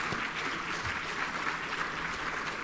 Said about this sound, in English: they deserve a good clap for all their hard work